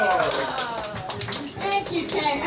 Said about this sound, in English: Please put your hands together for Miss Jasmine Bautista.